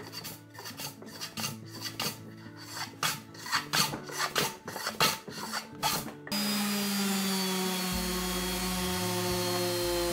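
A hand plane works 200-year-old Kiso cypress for a floor table, making a quick series of rhythmic rasping strokes up close before giving way to a steady, continuous wash of sound.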